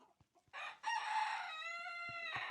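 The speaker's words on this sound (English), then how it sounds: "are the roosters talking today" Roosters crow on a farm, one long cock-a-doodle-doo after a few short clucks and taps, loud and close, with a second crow ringing out in clear harmonic bands.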